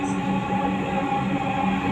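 A Dhaka metro rail train runs along, its steady mechanical hum and tonal whine sustained evenly throughout without pauses.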